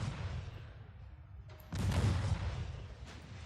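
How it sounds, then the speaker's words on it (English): Naval ship explosion in the warship video game Ultimate Admiral, a distant muffled boom that swells into a low rumbling roar, followed by a softer second blast. "Another explosion."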